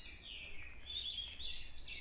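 Birds sing in a forest on a mountain trail, faint high chirps and twittering trills rising and falling over quiet low background noise, at a middle distance.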